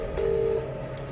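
A phone emits a single steady electronic tone lasting under half a second, like a dialing or ringback tone while placing a call, heard close and alone over low background hum.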